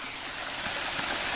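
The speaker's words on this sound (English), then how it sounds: "This is the waterfall." An African waterfall roars steadily close by, a dense, even rush of falling water with no break across the short stretch.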